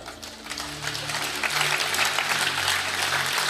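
An audience claps at a talk, the applause building from scattered hands into a steady, dense patter that keeps going to the end, with no speech over it.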